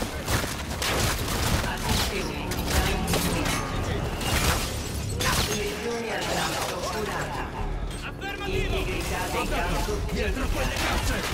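Gunfire rattles through a battle in the video game Call of Duty: Infinite Warfare, with loud, dense bursts of shots, impacts and shattering, broken by brief pauses and mixed with other battle noise.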